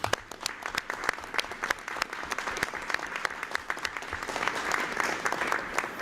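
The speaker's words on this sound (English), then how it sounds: "let's give Sean a round of applause for his dedication and hard work every year." At a school board meeting the room breaks into applause, with distinct sharp claps over a soft, steady bed of clapping that swells slightly toward the end, fairly quiet and without speech.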